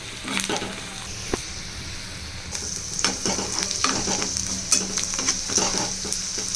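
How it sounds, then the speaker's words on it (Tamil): Onions sizzle and fry in a pan for fish curry while a utensil stirs them, with loud steady crackling and repeated scraping strokes close up. "நல்லா ஃப்ரை பண்ணுங்க"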